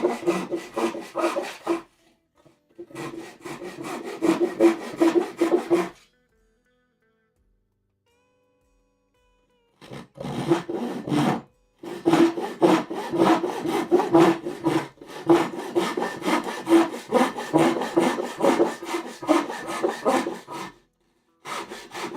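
Rhythmic hand sawing through wood, steady back-and-forth rasping strokes in two long bursts separated by a pause, close and clear.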